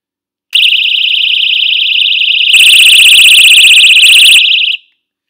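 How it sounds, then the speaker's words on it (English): A loud, shrill electronic alarm from a She's Birdie personal safety alarm wails steadily, then jumps to an even harsher, layered siren tone before cutting off abruptly. "The light should flash and an alarm will sound."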